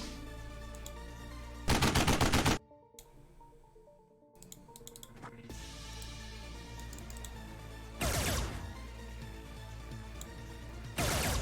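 Phaser rifles fire in the turn-based strategy game Xenonauts, heard as loud, harsh bursts of rapid crackling shots, each lasting well under a second and separated by quieter stretches.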